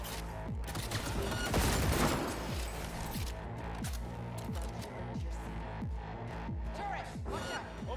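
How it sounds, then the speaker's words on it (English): Turret machine-gun fire in Cyberpunk 2077's Phantom Liberty in Night City: rapid, rhythmic bursts of shots, heavy at first and then continuing as a steady string of sharp reports over game ambience. "Turret, watch out. Opening fire."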